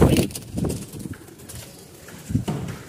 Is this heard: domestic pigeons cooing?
yes